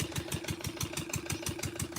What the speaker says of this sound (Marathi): तिथे किर्लोस्कर इंजिनवर एस टी पी सुरू आहे